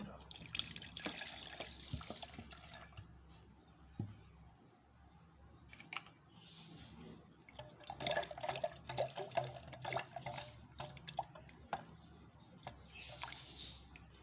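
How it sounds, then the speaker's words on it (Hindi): Water poured into mixed yogurt for chati lassi, splashing and trickling in uneven bursts close by, with a person talking at times over the liquid sounds. "अब इसमें थोड़ा पानी डालेंगे।"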